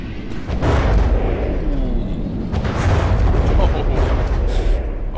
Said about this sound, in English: it looks like Berserkers come in for a strafing run